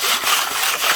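Gravel is scooped with a shovel into a classifier screen for stream gold prospecting, a continuous gritty rubbing and scraping, close and fairly loud, with no talking.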